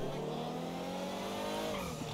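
A car in GTA V accelerates hard with a steady, rising engine whine, loud and continuous throughout, with no voices.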